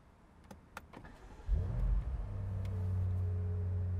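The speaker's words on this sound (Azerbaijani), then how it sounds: "Və maşınımız işə düşdü." A BMW M5 F90 starts up: a whirring crank gives way to a loud, deep engine catch, which then settles into a steady, rumbling idle close by.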